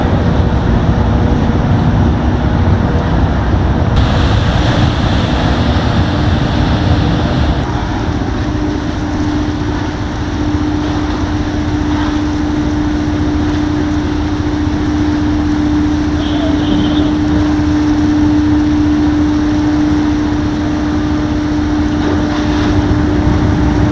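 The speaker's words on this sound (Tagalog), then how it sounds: "Yan na, malaking barko sa Puerto Bulusina, dumating na." A large ship arriving at port at Puerto Bulusina in Masbate, its propeller churning the sea water, producing a loud, steady low rumble with a sustained droning hum that continues throughout.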